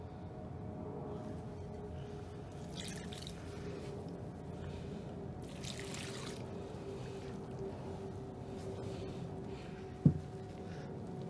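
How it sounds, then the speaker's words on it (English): Water is worked into flour and salt for Nigerian puff puff dough, producing faint, soft wet squelching and dripping that stays steady throughout, with one sharp little knock near the end. "Add just a pinch of salt and then start incorporating the water little at a"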